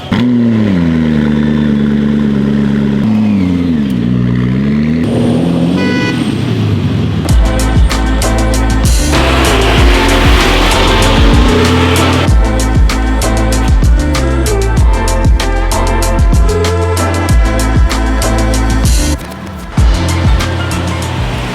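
An Apollo supercar revs hard and roars past at close range, its engine note rising and falling loudly through gear changes before settling into a harsh, sustained howl.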